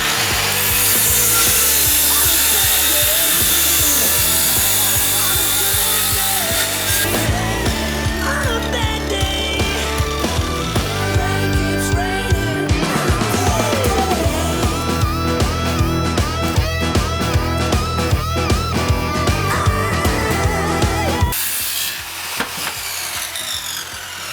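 Dnipro-M CS 185 M circular saw cutting through wooden beam stock, a loud, close, continuous whining rasp that holds steady under load for about twenty seconds before abruptly cutting off.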